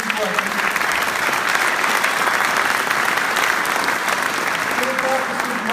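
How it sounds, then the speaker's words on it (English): Loud, dense applause from a debate audience in a hall as the three panelists are thanked, a thick, even roar of many clapping hands sustained close up for several seconds, with a murmur of voices underneath. "Let's give a quick round of applause to our three panelists"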